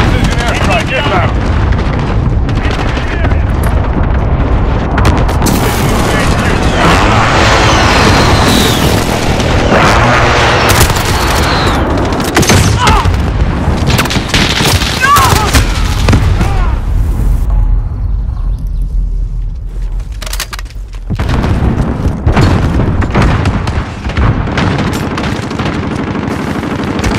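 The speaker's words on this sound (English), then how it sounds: "Enemy precision airstrike inbound" Precision airstrike in a video game: a dense, continuous barrage of booming explosions and rapid gunfire, loud and close, with game voice callouts over it and a brief lull near the end before the blasts resume.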